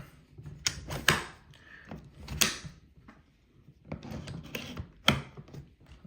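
The bolt of a Ruger PC Charger 9mm is worked by hand, giving a few sharp close metallic clicks and clacks spaced over several seconds with quiet handling noise between them.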